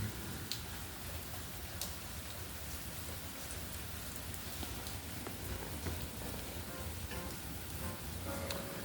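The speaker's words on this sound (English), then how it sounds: "We got some rain. Queen Mu bless us with some rain." Steady rain falls and patters densely on surfaces outdoors, a continuous close hiss with scattered drop taps throughout and no talking.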